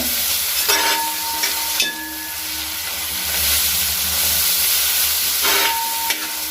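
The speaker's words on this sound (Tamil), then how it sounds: "கொஞ்சம் நல்லா ஒரு கைப்பிடி அளவுக்கு மல்லி, புதினா நல்லா ஒரு கைப்பிடி அளவுக்கு போட்டுக்கின்னு இதையும் நல்லா வதக்குங்க." Coriander and mint leaves, a handful each, sautéing in a pot while biryani is made: a steady close hiss of frying with a few stirring scrapes, and no voices.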